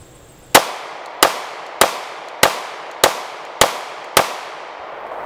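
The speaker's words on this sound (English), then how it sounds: "We're shooting the 115 grain full metal jacket." A Glock G45 pistol fires 9mm 115-grain full metal jacket rounds at a range: seven sharp, loud reports at an even pace of about one every 0.6 seconds, each followed by a short ringing decay.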